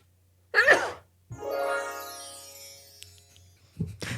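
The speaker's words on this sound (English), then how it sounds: "I added the chime when you sneeze." A loud close sneeze bursts out, followed by a bright ringing chime effect that decays over about two seconds, then another short breathy vocal sound.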